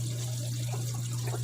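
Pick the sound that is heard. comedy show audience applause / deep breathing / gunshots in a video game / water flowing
water flowing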